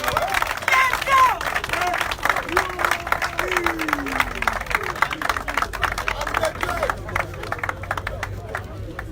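A church congregation claps and acclaims Jesus with steady, dense applause and scattered cheering voices, a continuous lively crowd noise lasting throughout.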